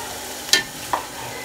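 Onions frying in a pan with potatoes and tomatoes, a low sizzle broken by two quick stirring scrapes, close and brief.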